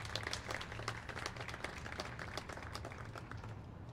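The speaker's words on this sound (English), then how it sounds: "I'd like to give them a round of applause as we celebrate." A crowd at an outdoor Flag Day ceremony gives a round of applause for first responders, many hands clapping steadily and fairly faintly, heard from a distance.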